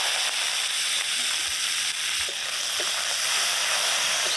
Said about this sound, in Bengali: নেড়ে চেড়ে একটু ভাজা ভাজা করে নেব।